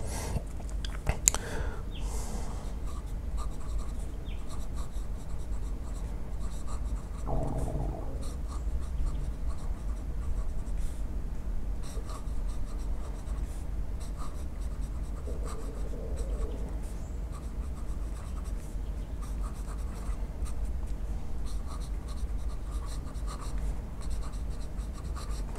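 Medium Sailor ProGear King of Pen fountain pen nib writing on paper, a soft continuous close-up scratching and rustle of strokes over a steady low background hum, with no talk.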